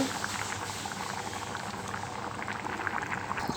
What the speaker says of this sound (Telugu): ఒక టూ మినిట్స్ ఉడికినాక బంద్ చేయాలండి